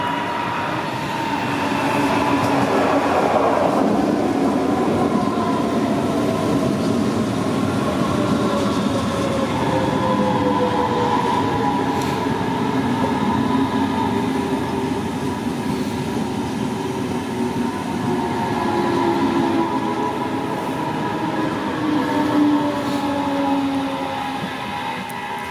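An S-Bahn train rumbles along steadily, wheels grinding and brakes squealing with long whining tones as it slows into Eschborn station, heard from inside the carriage.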